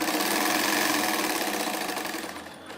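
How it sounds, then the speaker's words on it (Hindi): A sewing machine runs a kurti shirt seam at close range, a loud, rapid, steady stitching hum with a pulsing beat that slows and fades slightly toward the finish. "और इसी तरह अब मैं घेरे तक नीचे सिलाई लगाऊंगी"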